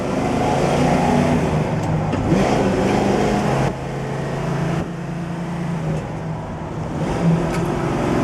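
A 1965 Chevrolet Impala SS engine droning steadily from inside the cabin, a loud continuous rumble with small shifts in pitch as it drives along.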